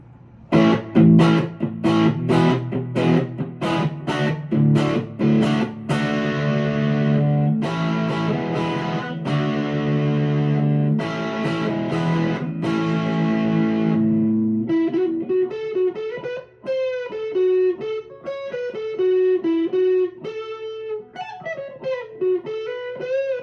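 An overdriven electric guitar with humbuckers, played through a Fulltone overdrive pedal and amp reverb, plays chunky strummed chords, then switches to a singing distorted single-note melody, loud and close, with a touch of reverb.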